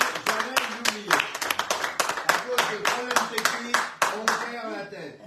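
Audience clapping along for a birthday celebration on a bistro radio show, a steady run of close, crisp handclaps with voices and cheers mixed in.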